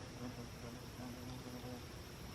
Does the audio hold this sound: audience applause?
no